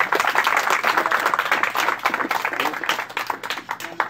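Guests applauding at a quinceañera celebration, a steady burst of many hands clapping together, loud and close, sustained for several seconds with slight fluctuations.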